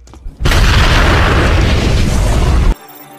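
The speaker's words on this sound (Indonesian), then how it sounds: "klona Alice memegang granat di kedua tangannya yang menyebabkan 2 ledakan" A thunderous, sustained explosion blast from grenades detonating in a zombie action film, loud and close, roaring for about two seconds before cutting off abruptly.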